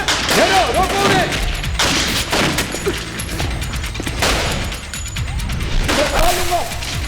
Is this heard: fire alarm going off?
no